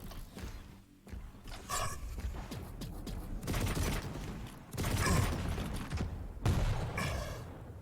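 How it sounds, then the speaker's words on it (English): Tri-bolt weapon fire in a Quake Pro League match: repeated bursts of sharp, mechanical shots in clusters, with metallic ratcheting clanks and busy game effects between them, moderately loud throughout. "Firing out those tri-bolt shots"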